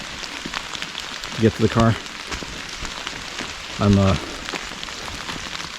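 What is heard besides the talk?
rain falling on a hiking trail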